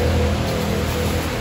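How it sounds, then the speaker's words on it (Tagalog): Rain falls steadily as a storm begins, a dense continuous hiss and patter close by with no break, alone without voices. "Dito lang ako ulit at umuulan na, nagsisimula ng bagyo."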